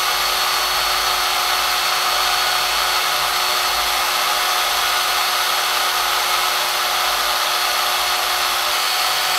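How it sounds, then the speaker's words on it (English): A SharpenAir sharpening tool spins a needle against a small polishing pad, giving a steady, loud, high-pitched electric whine that holds unchanged throughout, with no talking. "we're going to spin this on our polish, our little polishing pad just here"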